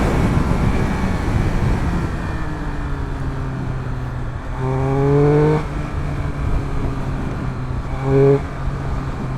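Triumph Speed 1200 RS motorcycle out on the road, its engine droning in fourth gear around 4000 rpm with wind noise, then two surges of rising engine pitch as the throttle opens, loud and close.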